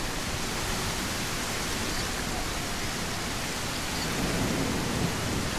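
Steady, dense rain falls in the video game Trailcam, a constant broadband hiss with no breaks or talking throughout.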